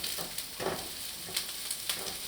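Seven halved Thai green chilies sauté in a hot pan for broccoli beef, giving a soft, steady sizzle with a few brief crackling bursts over about two seconds.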